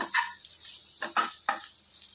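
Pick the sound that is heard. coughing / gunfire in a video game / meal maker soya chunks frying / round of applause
meal maker soya chunks frying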